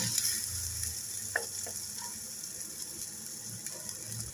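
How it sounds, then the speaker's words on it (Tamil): Curry leaves with a little tomato fry in a pan for a pasta dish, giving a faint, steady sizzle with a few small scraping and clicking stirring sounds and no voices. "கருவேப்பிலை நல்லா வேகட்டும்"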